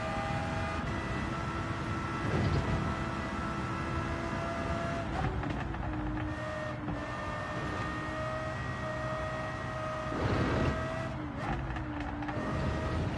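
A racing car engine in Gran Turismo 7, a Toyota Alphard Executive, drones steadily with shifting pitch, somewhat muffled and synthetic-sounding, with a couple of brief louder surges.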